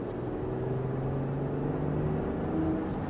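A BMW X5 with a 48-volt mild hybrid engine accelerating, a smooth, subdued engine hum with a faint rising tone under a steady road and cabin drone, even and continuous.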